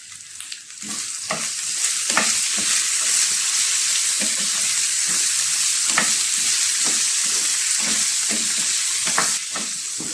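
Ivy gourd cut into long strips stir-fries with turmeric powder and salt for a Kerala thoran, a steady bright sizzle under repeated close scraping strokes of a spatula across the pan.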